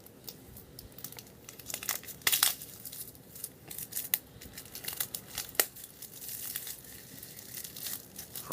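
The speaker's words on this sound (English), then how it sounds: "try to get this plastic, Apple's usual shrink wrap plastic around the box, is as tight as ever" Tight shrink-wrap plastic being picked off an iPhone 6 box with tweezers: close, irregular crinkling and crackling with sharp snaps and tearing bursts over several seconds, no talk.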